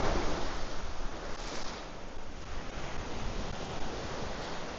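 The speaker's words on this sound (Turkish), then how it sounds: "Dalgayı görüyorsunuz. Gerçekten çok büyük ve şu anda yüzülmesi neredeyse imkansız." Large ocean waves break on a rocky stretch of beach at La Digue in the Seychelles, a dense continuous roar of surf mixed with heavy wind buffeting the microphone, loud and unbroken throughout.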